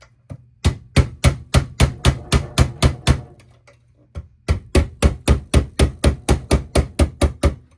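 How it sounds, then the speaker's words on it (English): A regular hammer raps parts on an old Tonka Terminix Fleetside toy truck, striking in two quick, even bursts of sharp, close knocks separated by a short pause. "Let's go with a regular hammer. It'll go a little quicker."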